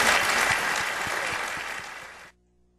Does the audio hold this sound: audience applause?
yes